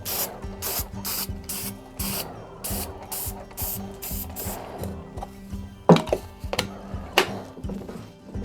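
Rust-Oleum Cold Galvanizing Compound is sprayed from an aerosol can onto a tray on a spinning turntable, in a quick series of short, close, hissing spritzes. Quieter handling clicks and taps follow.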